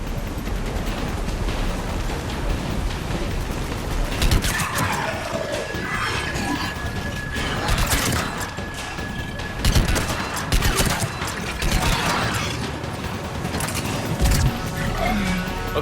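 Sustained gunfire in a Mass Effect 3 battle as the shuttle comes under enemy attack, with bursts of shots, explosions and whooshing effects layered densely and loudly throughout, swelling in waves.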